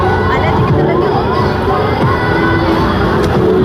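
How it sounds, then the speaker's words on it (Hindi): A loud, dense crowd throngs a Shiva temple on Mahashivratri, with overlapping voices, shouts and children calling out in a continuous festive din close by. "भीड़।"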